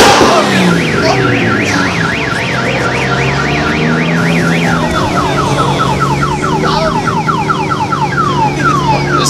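A Subaru's car alarm wails loudly and continuously at a night car meet, cycling through rapid warbling and chirping tones over a rumbling crowd and engine background.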